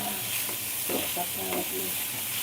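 Matar paneer ingredients roasting in a pan over low heat, giving a steady soft sizzle with light stirring scrapes, close and alone with no voices.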